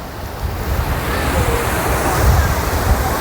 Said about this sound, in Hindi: ये पानी ऊपर ग्लेशियर से आ रहा है और ये नारान के ग्लेशियर से। हवा यहाँ पर बहुत तेज़ है